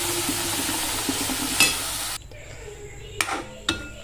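Cooked chickpeas go into hot spiced oil with a burst of sizzling that quickly dies down. A few sharp spoon clinks against the pan follow as they are stirred.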